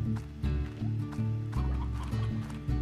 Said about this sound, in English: I'm just out here looking for chickens at this point.